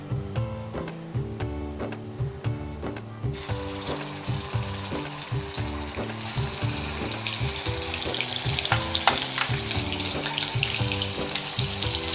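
A ginger, garlic and green chilli paste fries in a pan, its sizzle rising and thickening after a few seconds over a steady background of rhythmic music, moderately loud with no speech.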